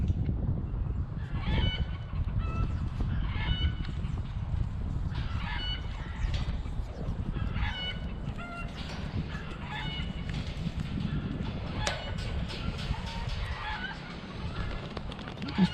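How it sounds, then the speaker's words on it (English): A chicken clucks in short repeated bursts, somewhat distant, over a rumbling outdoor background noise, with no talk. "This chicken sound definitely unhappy today."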